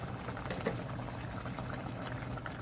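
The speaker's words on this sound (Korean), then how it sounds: "물이 끓어오르면 중약불로 줄인 뒤 30분간 졸여주세요" Water for a braised side dish bubbling at a steady boil in a pot, a dense, even bubbling close by with no voices.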